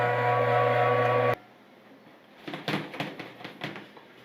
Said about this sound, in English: This grinder is a beast.